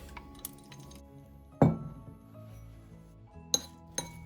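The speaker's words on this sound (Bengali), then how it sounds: "আমি এখন বাটিটা বের করে নিচ্ছি।" A glass bowl lifted out of a microwave oven after heating spices, a sharp clink and clatter followed by a few lighter glassy taps, close and fairly quiet.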